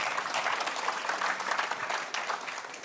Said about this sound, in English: Nice little round of applause, please.